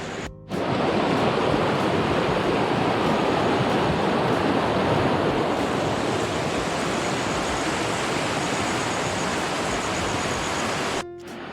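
A fast river rushes loudly and continuously in a dense, unbroken roar of churning water, close by, steady from start to end.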